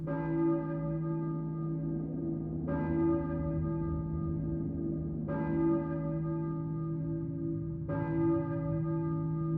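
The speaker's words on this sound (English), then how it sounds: "I hear a church bell, maybe." Church bell in the Silent Hill video game tolls four times at slow, even intervals, each deep ringing stroke lingering over a low steady drone.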